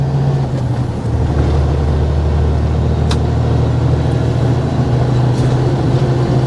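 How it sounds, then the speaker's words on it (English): Semi truck with a Detroit DD15 diesel laboring hard up an uphill on-ramp, a steady low drone filling the whole stretch without letting up, heard from inside the cab with no talking. "So my truck, hopefully you can hear it screaming in the background."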